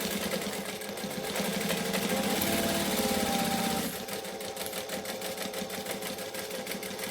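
A sewing machine stitches fabric close by, its rapid, even mechanical chatter running continuously. The pitch drops and the sound thins slightly after a few seconds as the speed changes, with no talking.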